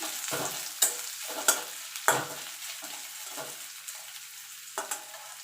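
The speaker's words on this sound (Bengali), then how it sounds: "আমি এখানে পেঁয়াজ ভেজে দিচ্ছি" Onions frying in a pan, a steady close sizzle broken by several sharp scraping stirs of a spatula against the pan, with no talk.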